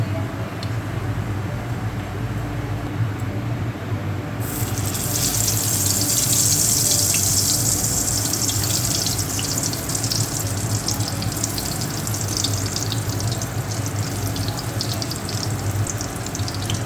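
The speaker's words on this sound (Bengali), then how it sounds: "এখন এগুলো তেলে ভাজবো।" Salted hilsa fish fritters with pumpkin leaves frying in hot oil, a continuous loud crackling sizzle that brightens and intensifies a few seconds in as the fritters go into the oil, steady to the end.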